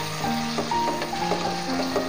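Tomatoes tumbling into a pan of sautéed onions for a squid roast, a steady close sizzle with light stirring clinks, no talking.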